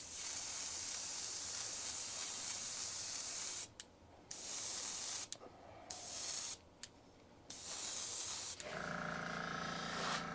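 Steady broadband hiss of an airbrush spraying watery weathering onto a model boxcar from a distance, cutting out briefly several times in short pauses, then resuming with a slightly different tone.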